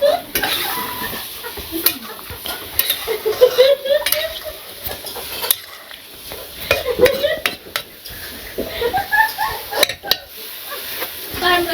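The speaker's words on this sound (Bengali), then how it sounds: "মাছ দিয়ে দিই। বাটা মশলাটাও দিয়ে দিই।" Fish and ground spice paste going into a pan of cooked-down vegetables in a village kitchen, with loud clattering and clinking of utensils against the pan over a faint sizzle.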